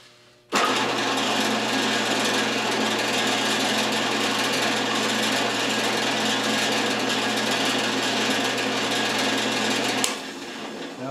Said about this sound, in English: I have a bad habit of using end mills for drill bits